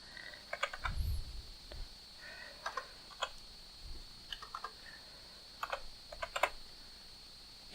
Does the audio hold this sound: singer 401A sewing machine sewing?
no